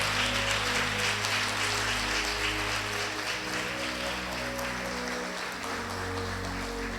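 A congregation claps steadily in church, a dense, continuous wash of applause holding at even loudness from start to finish, with a low sustained tone beneath it.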